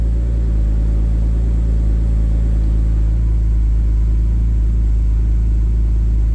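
A car fitted with a MagnaFlow rear muffler and a Vibrant resonator runs with a loud, deep exhaust rumble, a close, steady low drone with throaty pulsing and slight swells in revs, no voices heard.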